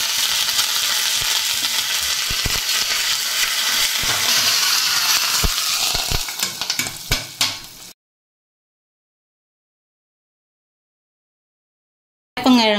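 Curry leaves and a ground paste of chana dal, dried chilli and garlic crackle and sizzle loudly in a pan with sharp popping clicks for about eight seconds, then the sound cuts to silence before a brief noise at the end.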